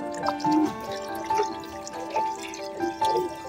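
Water pours and splashes into a bucket in a few short bursts, with liquid trickling between them, close by and moderately loud.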